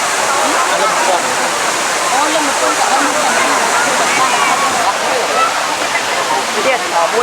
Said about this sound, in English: So this is the lower part of the Gulen Mountain waterfall.